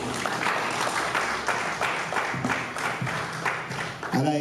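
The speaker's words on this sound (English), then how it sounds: "A round of applause once again for I Am Lucy" Audience applause at the premiere of I Am Lucy, a steady wash of clapping throughout, ending with a brief voice at the close.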